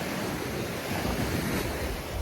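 Ocean waves wash onto a beach in a continuous broadband rush, mixed with wind buffeting the microphone, with no voices.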